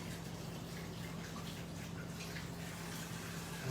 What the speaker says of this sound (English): Wash my hands real quick.